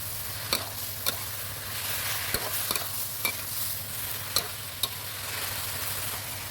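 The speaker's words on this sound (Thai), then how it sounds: "ช่วงท้ายพอเราใส่กระปีลงไปแล้วเราก็เร่งไฟนิดนึงครับ ใช้ไฟแรงผัดนะครับ" Cabbage stir-fried with fried pork belly and shrimp paste over high heat: a continuous hissing sizzle, punctuated by sharp metallic clacks of a spatula against the wok at irregular intervals.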